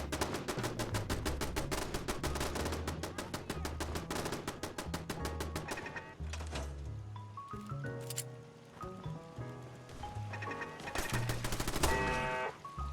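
Automated turrets in Fallout 4 fire on mole rats in rapid, evenly spaced bursts, with tonal game sounds and music mixed in toward the end.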